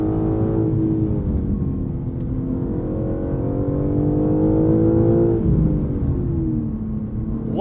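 A 2023 BMW M3 Competition xDrive driving hard at speed, its engine droning loud and steady from inside with rising and falling revs as it pulls between corners, no talking over it.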